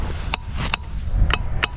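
Four sharp hammer blows ring out close by, spaced unevenly over a low background rumble, each strike a bright metallic crack.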